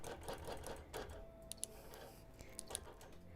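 A sewing machine free-motion quilts a Christmas table runner, its quiet ticking stitches running in soft uneven bursts with a few sharp clicks, heard close and fairly faint.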